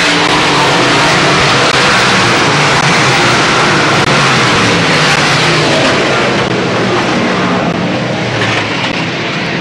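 Race cars roar continuously around Selinsgrove Speedway during a race, a loud, dense engine din that stays steady throughout with no voices heard.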